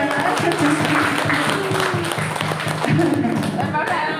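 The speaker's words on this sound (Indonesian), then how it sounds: "Oke, tepuk tangan semuanya" An audience in a school or training setting applauds together, a dense steady clapping that runs the whole stretch with voices mixed underneath.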